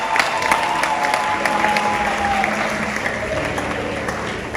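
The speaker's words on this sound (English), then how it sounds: "Please clap for them, clap for them, clap for them." A church congregation claps together in a sustained, even round of applause, moderately loud and close, with a faint tonal hum running beneath it.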